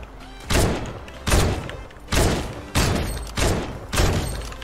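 Scoped assault rifle fire in Fortnite comes as six loud, sharp shots spaced roughly half a second to a second apart, each with a booming low thud and a short decaying tail.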